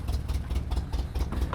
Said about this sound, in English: So Waymid needs a video of the engine running on this thing